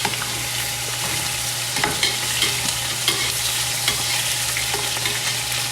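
Sausages and ribs searing in a hot pan, a dense continuous sizzle and crackle with scattered pops and spatula clicks throughout, close and loud.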